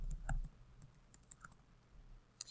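Someone types a search into the Google Drive search box on a computer keyboard. Light, scattered key clicks spread irregularly over a couple of seconds, quiet and close, with no talking.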